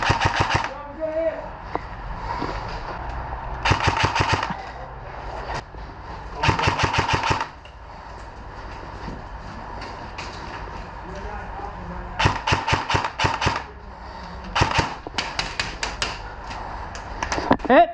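Airsoft guns firing during an outdoor game, several short rapid bursts of clicking automatic fire at intervals, fairly close, with talking in between.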